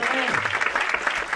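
A studio audience at a radio show applauds a performer, with brief, steady clapping under a voice.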